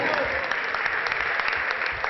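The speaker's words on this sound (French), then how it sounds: "On applaudit très très fort Anas." An audience applauds Anas, giving steady, dense clapping from many hands close by that holds evenly all the way through.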